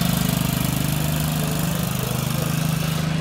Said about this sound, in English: he's going to be riding some four-wheeler